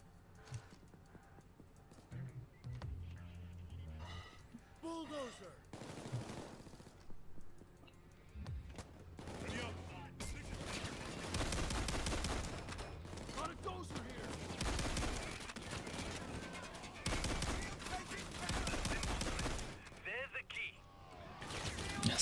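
Minigun-toting Bulldozer enemy firing in Payday 2 on the Henry's Rock heist, bursts of rapid automatic gunfire alternating with other shots and game noise, loud and chaotic, with a voice talking in between.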